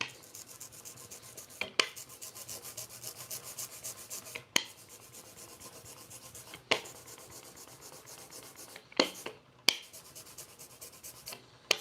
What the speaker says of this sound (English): Just kind of smoothing out that texture